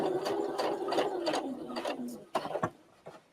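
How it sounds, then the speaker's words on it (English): A sewing machine stitches fabric guided flat along a groove, giving a whirring mechanical hum with rhythmic ticking pulses that fades into a few separate clicks, close by. "And then I'm just going to stitch"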